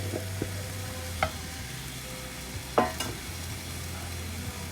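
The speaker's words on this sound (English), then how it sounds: "And then mix it. For about 5 minutes. Fry it nicely till the wetness goes away" Vegan fried rice with sauce being stirred and fried in a pan, scattered scraping and clinking strokes of a utensil over a soft, steady sizzle.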